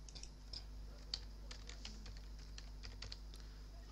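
Keys clatter on a computer keyboard in a quick, uneven run of light taps, faint and close over a low steady hum, with no voices.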